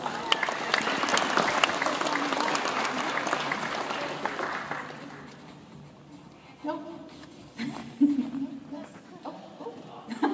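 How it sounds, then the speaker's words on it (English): A Roblox Game Conference 2012 audience applauds, loud dense clapping for about five seconds that fades out, then a quieter stretch with scattered noises and voices. "give yourself a round of applause"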